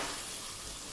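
Whole cinnamon, cardamom, clove and bay leaf frying in hot oil, giving a steady dense sizzle that stays loud and close throughout with no talking.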